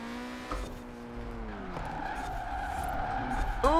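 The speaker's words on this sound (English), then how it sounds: "trying to basically drift in your lane in a rear-wheel drive drift car" Rear-wheel drive drift car sliding through a lane in Forza Horizon 4, with steady engine drone and sustained tire squeal whose pitch bends and slides, rising again near the end.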